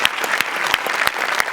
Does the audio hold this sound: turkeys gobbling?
no